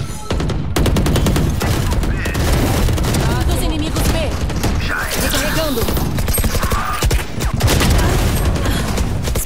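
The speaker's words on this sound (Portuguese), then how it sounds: "Granada!" Grenade blasts and gunfire rattle through a Valorant round on the Sunset map, loud rapid bursts and booms packed together throughout, with players talking over the chaos.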